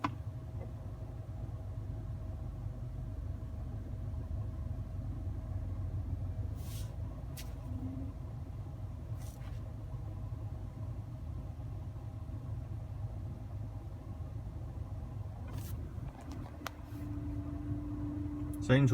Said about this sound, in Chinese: 现在开启压缩机。